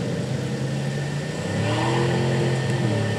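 Car engine in a video game played on an RTX 3080 laptop, a steady mid-pitched engine drone that rises slightly as if revving, heard continuously at moderate level with no talk.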